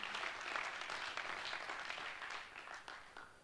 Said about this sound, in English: And I think that is worth an applaud for you guys.